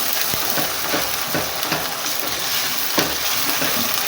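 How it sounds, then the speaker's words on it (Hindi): Ginger and garlic fry in a pan with a steady, close sizzle and occasional scrapes of stirring, no talk over it. "अदरक लहसुन 2 मिनट में भुन जाता"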